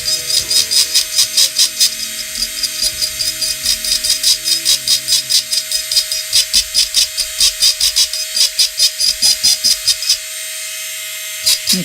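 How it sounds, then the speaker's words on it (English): A rotary power tool fitted with a larger cutter carves a sculpture, giving a steady high whine broken into rapid rhythmic pulses as the bit bites repeatedly into the material, close and continuous. "I switched to a larger cutter here because it gives me a rougher texture"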